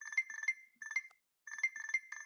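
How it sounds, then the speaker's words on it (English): An RFID scanner searching for a lost apparel tag emits rapid bursts of high electronic beeps, the trains stopping briefly then resuming, clear and close with no talk. "The beep gets louder and louder as you approach the room."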